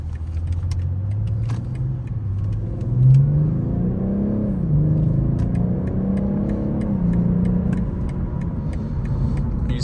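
A 2024 BMW 840i M Sport Gran Coupe accelerates with a rising, shifting engine drone, heard from inside the cabin. Steady road rumble runs underneath, and faint clicks and ticks recur throughout.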